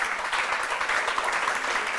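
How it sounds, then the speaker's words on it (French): An audience in a hall applauds, a brief, even burst of dense clapping heard at moderate level. "Toute la salle vous applaudit."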